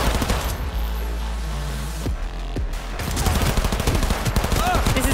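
Gunfire in the Cyberpunk 2077 video game: sustained rapid shots in a loud firefight, a brief lull with a couple of sharp bangs, then dense automatic bursts resuming, with speech mixed in.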